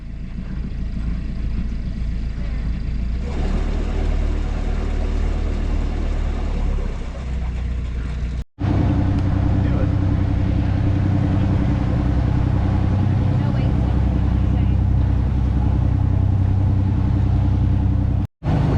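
A boat engine holds steady just under 2,000 RPM on a cruise to White Cove, Catalina Island, a loud continuous low rumble with wind and water wash, briefly cut out twice.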